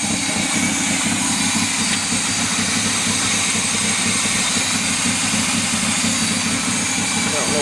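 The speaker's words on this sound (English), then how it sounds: "It's making weird noises because the exhaust muffler about fell off and the air pumps are hooked up but not hooked up." An old fire truck engine idles loudly and steadily, its exhaust muffler nearly fallen off, giving a rough, droning rumble with a rattly, uneven exhaust throb throughout.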